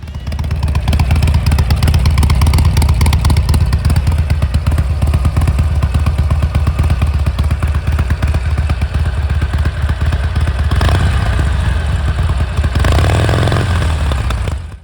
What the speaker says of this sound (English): Harleys are known for this potato-potato sound that comes from the unique firing pattern of the cylinders